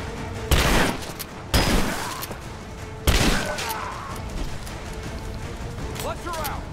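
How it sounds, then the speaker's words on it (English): Shotgun fire in Rise of the Tomb Raider: three loud, heavy blasts spaced a second or more apart, each trailing into a rumbling echo over a low background, with a brief voice near the end. "Let's switch to the shotgun perhaps."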